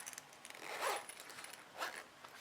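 A zipper is pulled along the tape of a handmade fabric makeup bag in two short, close rasping strokes separated by a pause, fairly faint and without talk.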